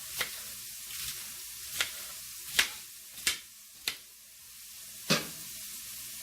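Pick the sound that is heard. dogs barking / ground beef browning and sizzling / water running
ground beef browning and sizzling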